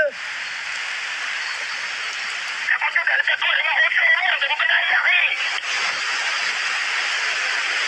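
Steady, dense hiss of heavy rain fills the whole clip, with a muffled voice talking over it for a few seconds in the middle.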